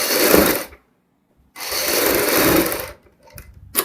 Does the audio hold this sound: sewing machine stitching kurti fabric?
yes